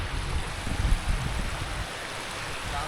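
Water flows down a stream at the Dhareshwar temple in Patan, Satara, with a continuous, fairly loud rushing wash and no voices.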